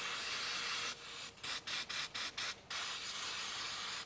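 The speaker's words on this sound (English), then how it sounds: "Let me try a bit of an aerosol here." Aerosol spray hisses into an engine oil sump during a sump plug repair: one long close blast, then six short rapid spurts, then another sustained blast.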